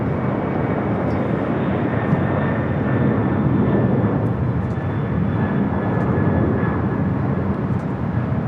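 A Boeing 747 jet taking off at LAX airport roars in a broad, steady, sustained wash of engine noise with a faint high whine, heard from some distance.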